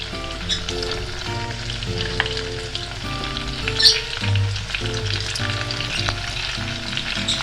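Onions and meat sizzling steadily in a hot pan for bograch, with occasional stirring scrapes and a brief louder clatter midway; no voices.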